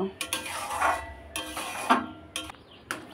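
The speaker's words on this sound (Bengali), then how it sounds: "এবার কিন্তু আমি অনবরত নেড়ে যাব, নাহলে কিন্তু তলায় বসে যাবে।" A spoon scrapes and stirs semolina dough in a pan in short repeated strokes, a few distinct close scraping bursts with quiet gaps between them.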